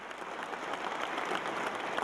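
A crowd gathered at Christel House school in South Africa applauds steadily, a dense, even wash of many hands clapping heard from moderate distance with no break.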